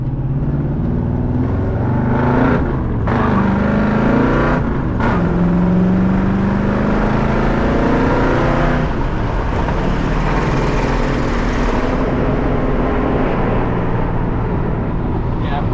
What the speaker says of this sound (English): I was just kind of going through the gears nicely on it